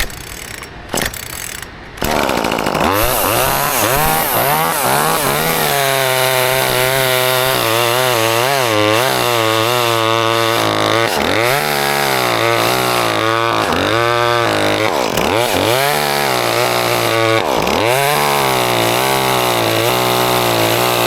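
A chainsaw fitted with a freshly installed chain and a poorly tuned carburetor starts after a couple of pulls, then runs loud and close for the rest, revving up and down repeatedly while cutting into a 60-foot tall tree.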